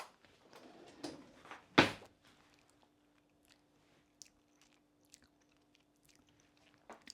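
A few soft crunchy bites and chewing on a small spoonful of roasted carrot hummus in a quiet home kitchen, one sharp close bite standing out amid faint clicks and rustles.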